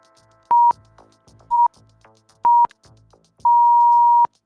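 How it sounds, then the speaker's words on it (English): Loud electronic beeps at roughly 1 kHz cut into a podcast recording: three short tones spaced about a second apart, then one longer sustained tone, with no talking over them. "What is that beeping?"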